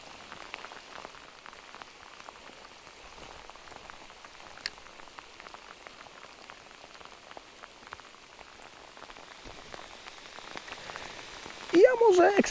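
Rain patters steadily on a fishing spot during a downpour, a soft, dense drizzle of drops that grows slightly louder, with a short bit of speech at the end.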